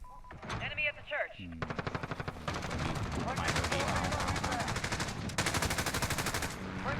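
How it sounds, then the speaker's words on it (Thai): Automatic gunfire in Call of Duty Warzone fires from behind, with rapid machine-gun bursts and sustained volleys that are loud and dense for most of the stretch, and a voice is heard briefly near the start. "ใครยิงมาข้างหลังวะ"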